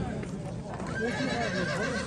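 A horse whinnies at a horse market, its wavering neigh rising over a busy outdoor murmur of people talking.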